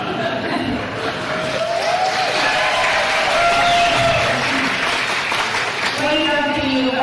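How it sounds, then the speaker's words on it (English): Gala audience clapping, screaming and shouting together, a sustained roar of applause and cheers filling the room at steady loud level, with scattered voices and whistles above it. "If you'd like to clap and scream and shout and so on."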